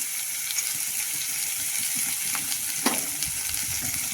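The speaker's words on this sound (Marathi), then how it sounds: "छान ह्याला परतून घेणार आहोत टोमॅटो मऊ झाले पाहिजे" Green tomatoes and green chilies sauté in a pan with a steady, close sizzle and faint crackle throughout, plus a few soft scrapes of stirring and no voices.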